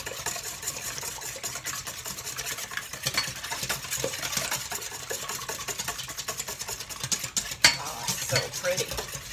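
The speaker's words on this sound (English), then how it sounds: "So I'm gonna whisk this up nice and easy peasy." Eggs whisked in a bowl for make-ahead breakfast eggs: a steady run of quick, light clinks and scrapes of the whisk against the bowl, close and continuous, with no talking.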